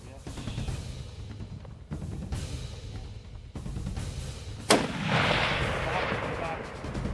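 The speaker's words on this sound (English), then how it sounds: "My first shot was low. I corrected myself, Bear came crashing." A rifle is fired at a black bear during a hunt, with one sharp, loud gunshot partway through that echoes and rolls off over a windy outdoor background.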